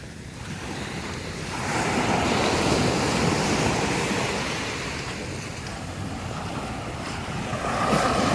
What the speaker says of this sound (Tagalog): Maligo ka ba? Dagat naman yan.